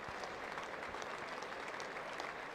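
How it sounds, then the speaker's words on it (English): Steady, dense applause from a cricket crowd at Lord's in the England v New Zealand Test, greeting Kane Williamson as he departs after his dismissal. The clapping is broad and continuous for the whole stretch, with no talk over it. "There is applause for Williamson as he walks up those famous old steps as a batter for the last time"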